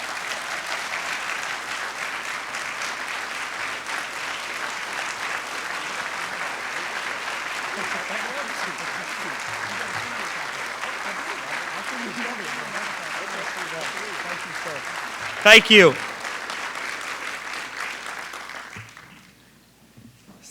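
A large audience claps warmly and steadily for a representative, dense applause filling the room, with a brief spoken thanks near the end before the clapping fades out.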